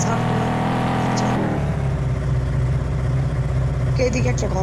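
A car engine in a mobile video game revs and drones steadily, its tone dropping and settling partway through, with layered game sounds over it.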